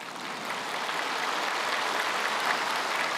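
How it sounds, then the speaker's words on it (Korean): A church congregation applauds during a sermon, a dense, even wash of clapping from many hands that builds slightly and holds steady, with no voices over it. "박수해도 돼요."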